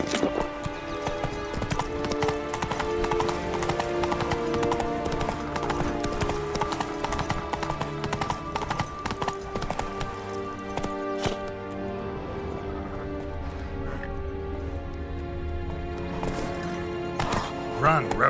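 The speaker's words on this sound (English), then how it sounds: "Run, Roach" A horse gallops in the video game The Witcher 3: Blood and Wine, with rapid, steady hoofbeats running throughout beneath game music and a voice speaking over it.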